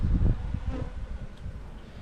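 Honeybees swarm around an opened hive during a frame inspection, producing a steady, close droning buzz with some breezy rustle.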